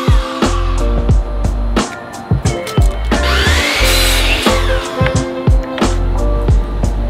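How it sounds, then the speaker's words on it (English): Power saw slicing 1x3 and 1x2 wooden trim boards, a loud whining cut swelling in the middle between sharp bursts and clatter of handling nearby. "After measuring, I cut the last few 1x3s and 1x2s to finish off the top portion of the trim."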